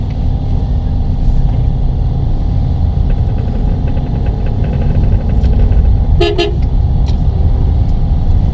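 Heavy late-afternoon traffic jam on a busy road, with a steady loud rumble of cars and trucks close by and a short car horn toot partway through, under a voice talking.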